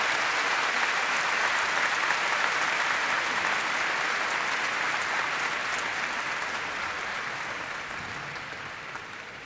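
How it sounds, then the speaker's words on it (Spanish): Dense, sustained applause from a conference audience at the dedication of a Bahá'í temple in South America, steady and full for several seconds before slowly tapering off, with no voices over it. "Un caluroso aplauso para el señor Antilef."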